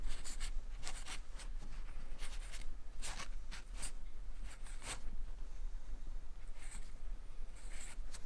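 A pen or pencil scratches out a measurement in a fabrication shop, in short quick strokes with brief pauses between, close and clear over a low steady hum.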